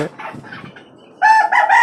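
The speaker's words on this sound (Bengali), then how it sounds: "প্রায় পঞ্চাশটি মুরগি মোরগ মুরগি আছে দেশি ও টাইগার মোরগ মুরগি আছে" Desi and Tiger breed chickens cluck softly in cages on a rooftop farm atop a five-storey building, then a rooster lets out a loud, close crow.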